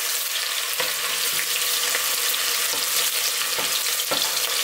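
Onion and garlic sizzle steadily as they brown in a pan for a beef stew with cabbage, a continuous close frying crackle broken by several soft stirring scrapes, with no talking.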